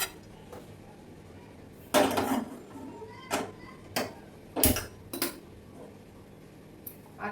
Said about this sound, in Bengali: চলো কড়াইটা বসিয়ে দিই